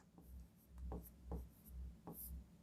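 Chalk or marker on a board during a ratio and proportion maths lesson makes several short scratchy strokes in a quiet room, each a brief soft scrape with pauses between.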